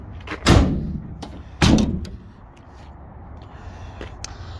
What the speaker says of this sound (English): we do have power lock on the side there on all the doors for locking and unlocking the vehicle